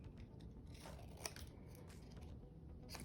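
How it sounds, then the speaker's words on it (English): Scissors snip a small paper scrap in a craft setting, a few soft close crisp cuts over a quiet background. "So I'm just gonna cut this little piece down"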